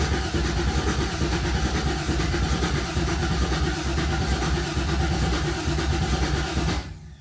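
A 1972 Chevelle RS with no spark cranks over and over without catching, the starter churning a loud, even rhythmic chug for several seconds before it abruptly stops.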